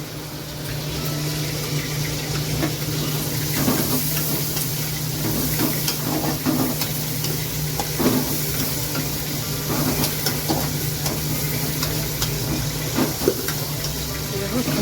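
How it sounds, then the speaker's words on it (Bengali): Boal fish frying in hot oil in a covered pan, a continuous loud sizzle with scattered pops and splutters throughout. "বোয়াল মাছ না, প্রচণ্ড ফোটে, এর জন্য ঢেকে ঢেকে মাছটা ভাজি"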